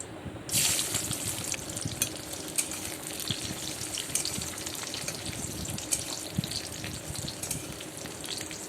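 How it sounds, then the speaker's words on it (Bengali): Cashew nuts frying in oil and a spoonful of ghee in a kadai, a steady broadband sizzle that swells in after a quiet start and crackles on continuously, fairly close, with no talking. "সবার প্রথমে কাজু বাদামগুলো দিয়ে আমি হালকা করে ভেজে নেব"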